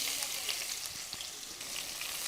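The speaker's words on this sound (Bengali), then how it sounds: "নেড়ে চেড়ে পেঁয়াজ কুচিটাকে বেশ কিছুক্ষণ ভেজে নিব" Two medium chopped onions fry in leftover oil in a pan, giving a continuous bright sizzle with occasional soft stirring scrapes, close and steady.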